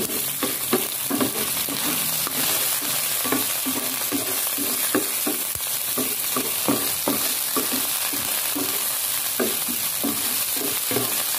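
Adobo chino meat with banana, onion and garlic fries in a pan under a constant loud sizzle, while a utensil stirs with repeated scraping and clacking strokes throughout.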